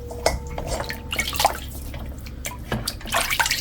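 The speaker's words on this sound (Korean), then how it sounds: "갈비를 건져서 아주 차가운 물에 담갔다 바로 건집니다." Boiled beef short ribs lifted out and dipped into cold water, close splashing and dripping with scattered drops and brief sloshes, the last part busier as the ribs come back out.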